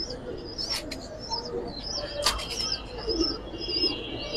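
Sapchila makra pigeons, a flying breed, give soft low coos with brief bursts of wing flapping and faint chirps, close by over a steady background hum.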